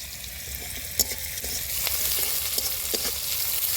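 Steady sizzle of chopped onions frying in hot oil with whole cumin, occasional stirring clinks and scrapes, close up, continuous throughout with no talking.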